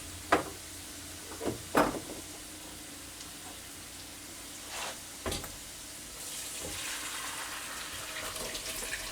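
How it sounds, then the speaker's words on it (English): Boiled potatoes for potato soup are drained into a colander: a few brief splashes early on, then a steady, close hiss of pouring, running water toward the end. "I'm going to drain the potatoes into a colander and reserve the liquid"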